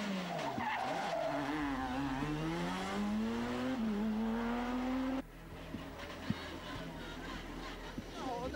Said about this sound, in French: c'est Luca Rossetti au volant de l'Abarth Grande Punto